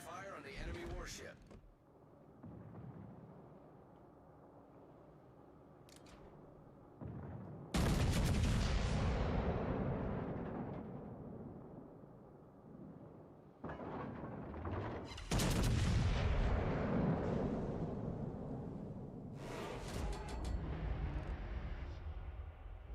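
Heavy naval guns boom in a warship battle game, several loud blasts with long decaying rumbles spaced a few seconds apart, with quieter stretches and a voice between them.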